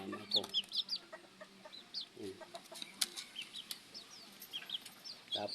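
Serama chickens, one a brooding hen on eggs, clucking softly in short scattered calls with a few sharper chirps, faint and nearby, alone without talk.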